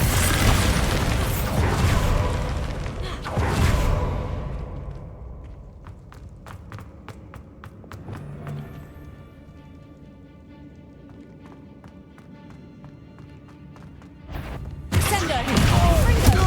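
Bombarda blasting spell going off in the Hogwarts Legacy video game: loud booming bursts at the start and end, with softer rattling, clinking mechanisms and steps through the quieter middle.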